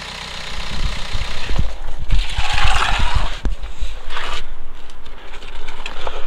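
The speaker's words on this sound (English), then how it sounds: "So I'm starting the engine up now, and you can see it begin to pour out." A BMW 1 Series 120d/118d with an N47 diesel engine cranks and fires up, then settles into a steady, rough idle with a busy mechanical clatter close by; no talk is heard.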